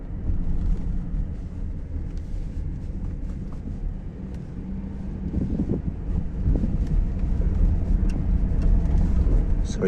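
A car drives along a country road between El Rincon and Los Carr. Its engine and road rumble stay loud and constant inside the cabin, with wind buffeting the microphone and no speech.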